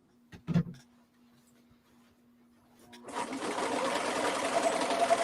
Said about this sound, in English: Would you top stitch this then?